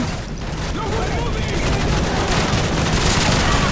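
Gunfire in Call of Duty Modern Warfare 3 during a desert storm battle, dense and loud, with rapid automatic bursts and explosions blending into a continuous roar under a player talking.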